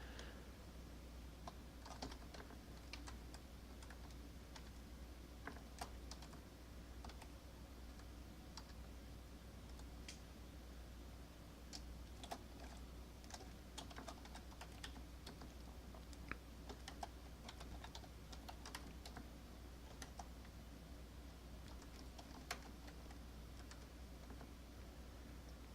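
Quiet, steady typing on a computer keyboard, with irregular soft key clicks and taps running continuously over a low background hum.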